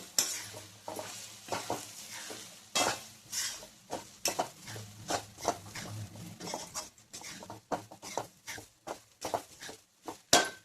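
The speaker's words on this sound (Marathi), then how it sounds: "आता आपण हे बारीक करून त्या भाकरी घेतल्या होत्या ना हे त्याच्यात टाकू आता आणि याला चांगलं मिक्स करून घेऊ।" A spoon stirs crumbled leftover bhakri into fried onions in a pan, with repeated scraping strokes and a soft sizzle. The stirring comes close and steady, in uneven rhythmic bursts, with no voices.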